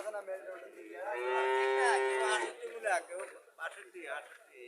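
A native bull at a cattle market in Chauara Bazar, Comilla, gives one long, moderately loud moo, followed by voices talking nearby.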